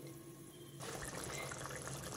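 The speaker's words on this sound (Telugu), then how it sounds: "పులుసు మరిగిపోయింది, చూసారా ఎలా ఉడుకుతుందో" Boondi curry broth at a rolling boil in a pot, a dense, steady bubbling hiss that jumps suddenly louder partway through and then churns on evenly, close by.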